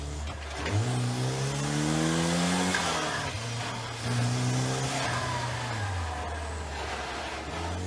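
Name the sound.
race car accelerating down a track's back straight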